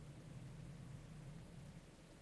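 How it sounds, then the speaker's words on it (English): Rain falls in Captain of Industry as a faint, even hiss of steady rainfall with a low underlying hum, unbroken and without voices. "Here comes some rain that'll help everything."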